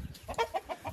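Laying hens cluck in a short run of soft, repeated calls at close range while pecking at a whole cabbage head set in their enclosure.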